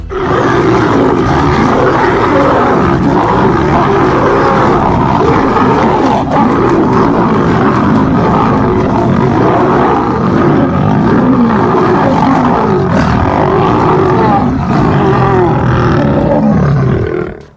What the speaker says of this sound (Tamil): இங்க சிங்க கூட்டத்துக்குள்ளாரையே கலவரம் நடந்திருக்கு.